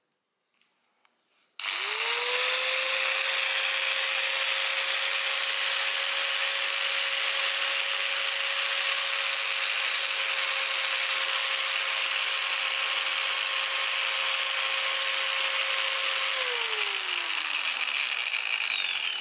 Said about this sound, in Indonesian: Kita akan mencoba untuk mengetahui tingkat kebisingan dari gerinda ini.